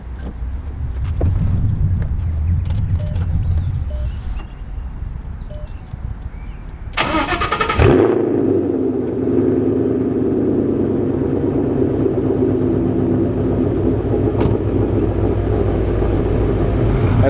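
A car engine fitted with American Racing 1-7/8 inch long-tube headers cranks briefly, then catches and settles into a steady, loud idle that keeps rumbling with no talking.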